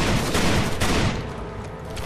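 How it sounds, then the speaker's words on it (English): Uzi submachine gun fire in the Rainbow Six: Vegas 2 shooter game, a loud, close burst of rapid automatic shots that rattles for about a second before trailing off into echoing decay. "It's a Uzi."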